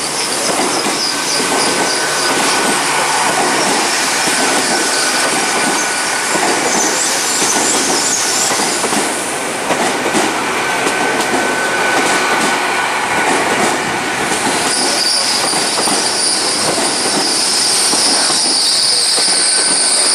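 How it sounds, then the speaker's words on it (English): A Great Western Railway Class 800 passenger train rolls into Exeter St Davids station close by, wheels rumbling and squealing steadily on the rails, with a high metallic whine rising toward the end. "arriving now is going to be the 1217 Great Western Railway service from Paignton to London Paddington"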